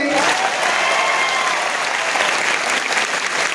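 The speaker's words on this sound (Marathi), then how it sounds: "एकदा जोरदार टाळ्या होत्या तुमच्या मायबापासाठी." An audience at a student movement's career-guidance event in Nanded claps hard and continuously, a dense wash of applause that holds steady throughout.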